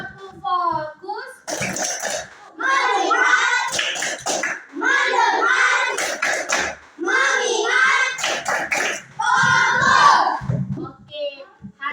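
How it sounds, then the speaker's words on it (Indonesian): Schoolchildren in a classroom chanting and clapping together in a rhythmic ice-breaking clap game, bursts of group voices with sharp claps in repeated patterns, close and loud. "Tepuk fokus."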